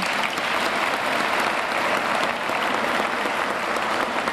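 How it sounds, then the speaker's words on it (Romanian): Steady, dense applause from an audience fills the whole stretch at an even level, with no pauses and no talk over it, as a televised Romanian sports award ceremony honours a footballer. "Să-l aplaudăm."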